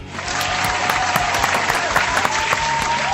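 A round of applause rings out in a podcast studio for a wrestling comeback, dense steady clapping with a few sharper claps, close and moderately loud throughout.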